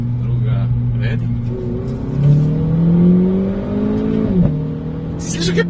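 A Renault Clio R.S. Trophy with an Akrapovič exhaust pulls hard through the gears as it leaves a village, the engine rising in pitch, dropping briefly at a shift, then climbing again, loud and close.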